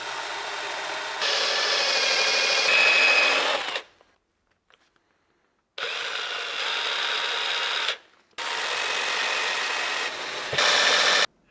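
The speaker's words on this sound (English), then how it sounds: "Then I use Scotch-Brite pad." Engine valves being scrubbed with a Scotch-Brite pad on a rotary tool during a BMW E91 repair: a steady, loud, high whirring grind in three long passes separated by short silences.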